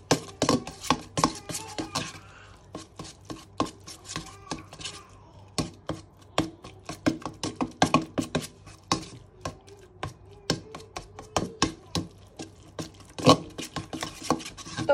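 Ground meat being mixed with cheese in a bowl by hand, a steady run of sharp clinks and soft squelching knocks against the bowl, close and fairly quiet.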